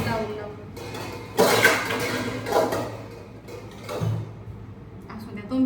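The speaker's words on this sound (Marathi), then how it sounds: "ह्या ड्रावर उघडूनच कटाळा येतो लावून." A kitchen drawer is pulled open and pots and pans are rummaged through, giving sharp metallic clatters and clinks in a few bursts, with a voice talking in between.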